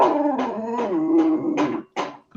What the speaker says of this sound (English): He doesn't even want to bark right.